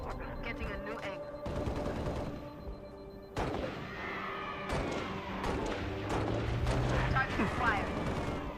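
Gunfire in the Halo Reach video game, with repeated rapid weapon bursts and explosive blasts close and loud, someone talking over parts of the action.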